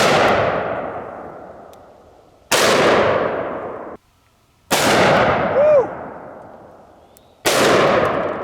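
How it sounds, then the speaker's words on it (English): Four powerful revolver shots from .460 and .500 Smith & Wesson Magnum handguns, each a sharp loud blast followed by a long decaying echo, fired at spaced intervals outdoors, with a short whoop between them. "start out with a 460 Smith & Wesson Magnum and a 500 Smith & Wesson Magnum"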